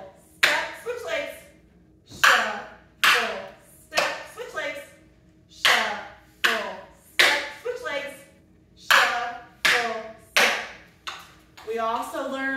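Tap shoes doing pre-K tap dance shuffle steps: sharp, close metallic taps in a steady repeating rhythm of about a dozen beats, with a voice audible between them.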